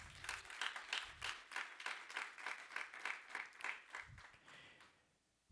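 A church congregation claps in a steady rhythmic beat, many hands together at moderate distance, continuing for several seconds before stopping abruptly into near quiet.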